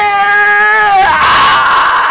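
A Phoenix Wright Ace Attorney game character lets out a loud, high pitched scream, starting as a wavering sustained cry that breaks into a harsh, noisy shriek before fading.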